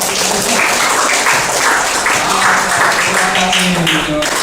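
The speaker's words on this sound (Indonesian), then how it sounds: "Boleh kita kasih tepuk tangan ya" Students applauding in a madrasah classroom, a continuous loud wash of clapping hands with voices mixed in throughout.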